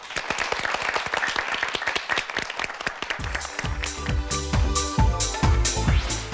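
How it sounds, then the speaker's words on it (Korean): Audience applause at a Korean high school debate competition, clapping fairly close for two student debaters; after a few seconds, loud rhythmic music enters beneath it and the applause keeps going over the beat. "두 학생에게 박수 부탁드립니다."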